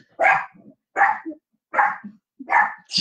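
A dog barks four or five times in an evenly spaced series, loud and close, each bark followed by a short soft grunt or whine, with no talking.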